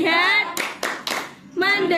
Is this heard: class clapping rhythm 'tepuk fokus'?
yes